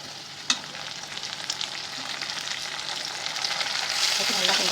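Tomatoes and onions fry in a pan as they are stirred, with a close, continuous sizzle, a sharp clink at the start, and frying that grows louder toward the end.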